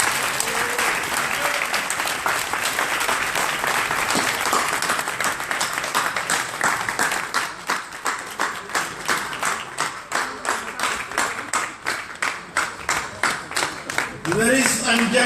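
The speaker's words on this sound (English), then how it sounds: "another round of applause for Professor" Audience applause in a hall after a long speech by Professor P L O Lumumba in Banjul, sustained dense clapping that thins into rhythmic claps before a voice begins at the end.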